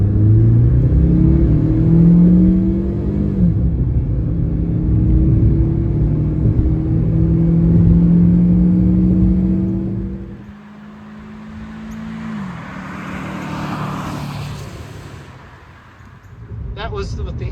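A 2006 Scion xB with a 1.5 liter engine and 262,000 miles accelerates hard from 0 to 60, its engine note climbing steadily through two gear shifts before easing off into road rumble, heard loud and close from inside.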